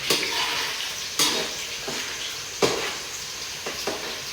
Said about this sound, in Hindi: यहाँ पे मैंने फ्राइज डाल दिए हैं हमारी कढ़ाई में, जो फ्राई होने शुरू हो गए हैं